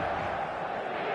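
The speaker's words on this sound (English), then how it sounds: "There's a real expectant buzz in the stadium" Steady, faint crowd murmur filling a football stadium in eFootball 2026 before kickoff, an even wash of distant voices.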